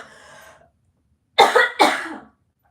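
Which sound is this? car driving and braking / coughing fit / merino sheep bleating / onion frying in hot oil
coughing fit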